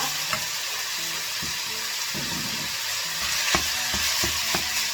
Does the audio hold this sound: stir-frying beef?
yes